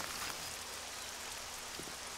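Rain falls steadily in the video game 7 Days to Die, a dense, even hiss of drops pattering on surfaces with no breaks throughout.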